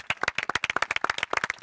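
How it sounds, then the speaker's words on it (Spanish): A small group of football players at a training session claps for a brief burst, with many sharp, closely spaced hand claps at close range. "Un aplauso a todos."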